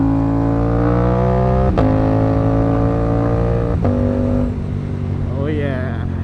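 An Aprilia RS457 motorcycle engine revs at high RPM with a quick shifter, its steady droning pitch broken by two quick upshifts, loud and close, with a voice speaking near the end.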